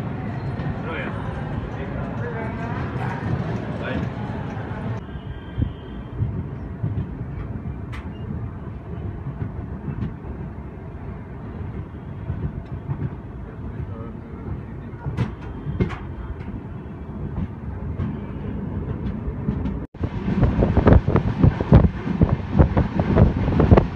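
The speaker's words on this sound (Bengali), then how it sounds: "14 মিনিট পরে রেণিগুন্টা স্টেশন থেকে বেরিয়ে যাচ্ছি ফাইনালি" The Bangalore–Howrah Duronto Express (12246) pulls out of Renigunta station with a steady rumble and wind buffeting, rattling clatter rising toward the end, and a voice talking over it.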